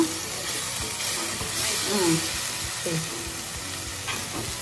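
Paneer and gongura leaves frying in a pan for a curry, a soft continuous sizzle with occasional stirring scrapes, heard close and fairly quiet with no talking.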